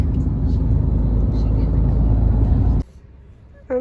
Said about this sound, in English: Look at that monster truck.